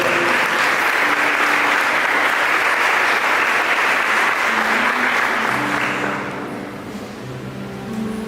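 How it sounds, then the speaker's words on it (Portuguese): A church congregation breaks into loud, sustained applause, a dense wash of clapping that fades somewhat toward the end while faint musical tones sound underneath. "Dá uma salva de palmas para a palavra de Deus."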